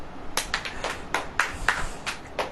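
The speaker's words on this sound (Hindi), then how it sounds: "ताली बजाओ।" A church service audience claps hands in scattered, uneven bursts, sharp individual claps sounding at moderate distance with no voices over them.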